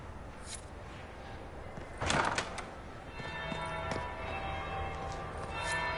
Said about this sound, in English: That would be the second bell.